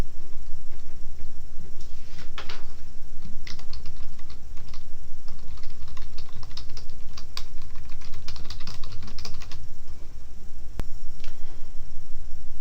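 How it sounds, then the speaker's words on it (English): Rapid, close clicking of computer keys, typing in irregular bursts with brief pauses, no voices. "So I'm going to type this document"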